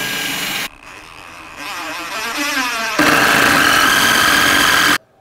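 A power drill driving 3-inch Torx screws into a wooden newel post, bursts of whirring motor that rise in pitch and grind before cutting off abruptly, loud and close.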